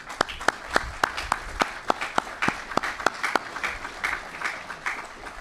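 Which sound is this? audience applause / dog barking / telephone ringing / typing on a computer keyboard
audience applause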